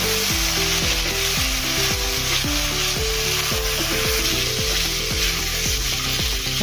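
Vegetable pulao with tomato and green chilies is stirred in a hot pan: a loud, continuous sizzle with rhythmic scraping strokes of a spoon against the pan, repeating roughly every half second.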